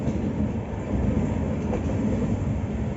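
A train on the Vizag to Araku Valley line rumbles steadily with a continuous low roar and faint rhythmic rattling of carriages, no voices.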